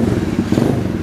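A Symotos 110 mini trail motorcycle engine starts, giving a brief, steady, close rumble with faint mechanical clatter and no voices.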